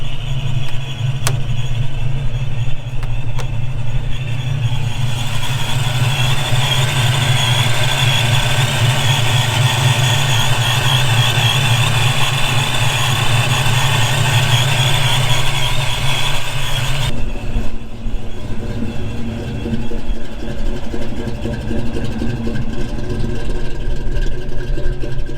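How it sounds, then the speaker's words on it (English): A 1990 Mustang GT fitted with a Vortech supercharger idles steadily and close by under the hood, a high supercharger whistle riding over the engine's low hum until the sound shifts late on. "You can hear the lovely whistle of the Vortec underneath the hood"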